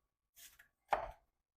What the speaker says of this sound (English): cut like that, and now when you slice,